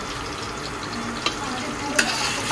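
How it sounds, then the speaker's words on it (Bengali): Fish frying in a home kitchen pan, a steady crackling sizzle throughout with a couple of brief sharper pops, heard up close with no talking. "এই যে মাছ ভাজা হচ্ছে।"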